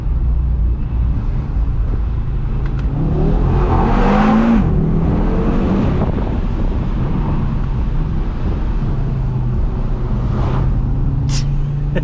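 A 2020 Audi RS3 pulls hard on a country road, its engine rising in pitch and dropping back through downshifts, loud and close inside the cabin under steady wind and road roar.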